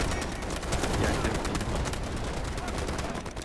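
Rapid, dense gunfire from the mobile shooter game Delta Force Mobile, a continuous loud stream of shots with no pause across the whole stretch, with a voice faintly present underneath.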